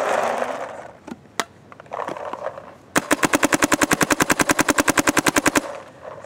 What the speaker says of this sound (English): No problems just shooting at one finger in ramp.